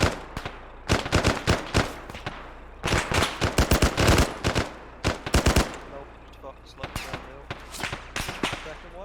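Heavy gunfire in a military video game operation, rapid automatic bursts and single shots in clustered volleys, loud and close, with pauses between exchanges and radio-style voices talking in between.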